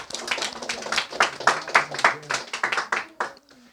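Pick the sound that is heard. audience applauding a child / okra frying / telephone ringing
audience applauding a child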